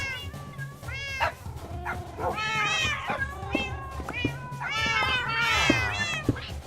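Several cats meow in turn, a quick run of rising and falling mews stacked close together, fairly near and loud over a steady low background hum.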